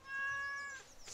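A cat meows once in the video game Stardew Valley, a clear, tonal in-game meow that is fairly faint and heard alone.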